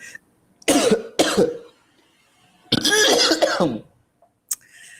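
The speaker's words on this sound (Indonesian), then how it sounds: "sorry batuk." Two sharp coughs, then a longer rough bout of coughing and throat clearing, close to the mic, with quiet gaps between.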